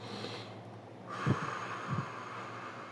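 A person does a breathing exercise: two short nasal puffs, then a long, slow, breathy exhale that hisses softly and continues to the end, close and quiet.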